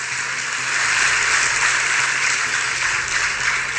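An audience at a speech by the chief minister claps and cheers in a steady, dense, loud wash of applause with no pauses.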